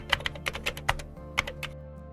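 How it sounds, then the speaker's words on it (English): A computer keyboard is tapped in a quick run of about a dozen close, light keystrokes, each a crisp click on a quiet background. "I'll type gpedit.msc."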